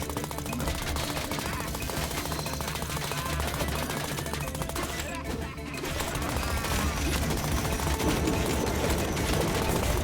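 Enemy gun turrets in the video game Trifox fire rapid, dense bursts that run almost without pause, loud and close, with a brief lull midway and faint game sounds mixed in.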